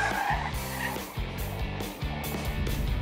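A Subaru WRX STI with the EJ20 boxer engine runs flat out at Tsukuba Circuit, its engine note climbing through revs and dropping at shifts several times, loud and close with a brief tire squeal.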